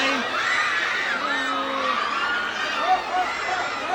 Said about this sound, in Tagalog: Kaso si Sky natatakot sa sigaw ng mga tao